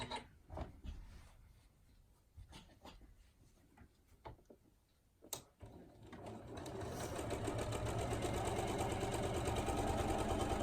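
A sewing machine runs a lengthened straight stitch with the needle centred, starting with scattered clicks and short bursts, then settling into a loud, continuous rhythmic whirring run for the last few seconds.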